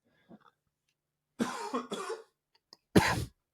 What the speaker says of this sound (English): Sorry, my cough is coming back.